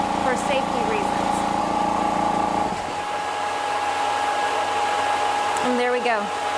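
Air Venturi air compressor running with a steady mechanical whine, then cutting out abruptly as its automatic shutoff engages, leaving a quieter hum and some faint clicks and squeaks afterward.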